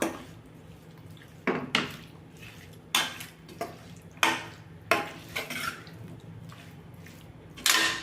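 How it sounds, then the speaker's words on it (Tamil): Marinated chicken being mixed with one tomato and a large onion in a bowl, producing a series of close, wet squelches and spoon knocks at irregular intervals, with quiet gaps between strokes. "இப்போ ஊறின சிக்கனில் 1 தக்காளியும் 1 பெரிய வெங்காயமும் போட்டுறணும். போட்டுட்டு நல்லா கலந்து விட்டுருவோம்."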